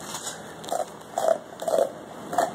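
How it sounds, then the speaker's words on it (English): A Rhodesian Ridgeback with cancer gnaws a knuckle bone, producing close, wet crunching bites in irregular bursts over a steady background hiss. "He wasn't that happy till he started chewing those knuckle bones."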